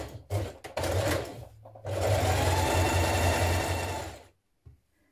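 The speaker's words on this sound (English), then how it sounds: "Then you're going to fold your sleeve in half and stitch the underarm seam." Sewing machine stitching the underarm seam of a sleeve on a 1960s vintage dress, a few short bursts followed by a longer steady run of rapid stitching, then stopping, with no talking.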